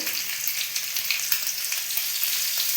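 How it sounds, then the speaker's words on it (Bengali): Potatoes frying in hot oil with turmeric give a bright, steady, close sizzle with small crackling pops throughout, no voices. "বেশিক্ষণ ভাজবো না, আমি 2-1 মিনিট ভেজে নেবো।"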